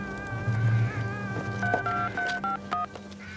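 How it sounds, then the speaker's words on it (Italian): A telephone number is punched in on a keypad, giving a quick run of short beeping touch-tones over a steady background hum and music. "Potrei fare una telefonata."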